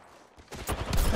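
Gunfire in the Apex Legends arena mode, a burst of rapid shots that starts after a quiet half second and grows louder and denser toward the end, without any voice over it.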